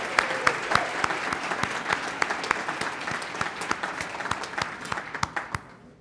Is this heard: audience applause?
yes